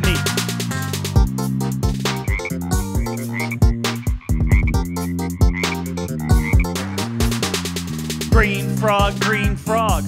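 A green frog croaks in repeated rhythmic calls, loud and close, over a bright music backing.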